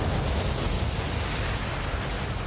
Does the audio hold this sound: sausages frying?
no